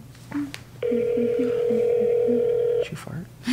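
A telephone call rings through a handset: dialing tones, then a steady electronic ringback tone that holds for about two seconds before cutting off, with brief voices before and after.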